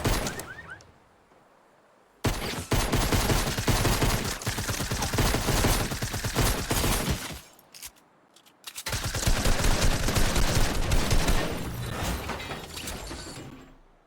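Rapid pistol fire in Fortnite crackles in two long sustained bursts of closely spaced shots, loud and harsh, separated by a brief quiet gap and opened by a short mechanical click.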